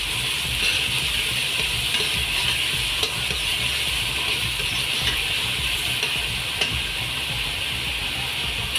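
Onion, chillies, garlic and curry leaves frying in a pan for a carrot and potato stir-fry, a loud continuous hissing sizzle with only occasional soft stirring knocks beneath it.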